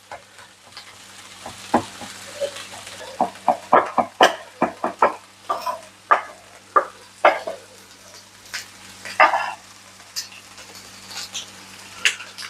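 Eggplant with salad vegetables frying and being stirred in a skillet: a low steady sizzle under a run of sharp spatula scrapes and knocks against the pan, close and fairly loud, with no one talking.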